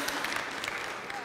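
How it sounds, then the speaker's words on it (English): Audience of parents applauding at a comedy show, a continuous dense patter of clapping hands filling the room, moderately loud and steady for the whole moment. "Can I get some applause from the parents here?"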